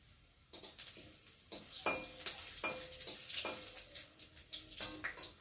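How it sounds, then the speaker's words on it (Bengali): Bay leaf, dried red chili and whole cumin crackle in hot oil as a tempering, quiet bursts of sizzle with clinks of a spoon stirring in a pan. "ফোড়নটা একটু ততক্ষণ ভাজা ভাজা হোক।"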